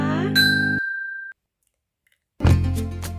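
A single bright notification-bell ding rings out clearly and fades over about a second, set between stretches of louder music or voice with a short silence after it.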